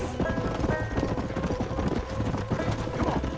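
Rapid hoofbeats of a galloping horse in Red Dead Redemption thud steadily throughout, dense and continuous, with a busy game-like soundscape and faint background noises.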